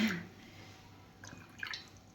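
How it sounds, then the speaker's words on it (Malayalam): Strong black tea decoction for Irani chai is poured into glasses, giving a faint, brief liquid splash and trickle, with a soft drip-like sound at the end. "നമ്മുടെ ചായയുടെ ഫസ്റ്റ് സാധനം ഒഴിക്കുക അല്ലേ കടും ചായ"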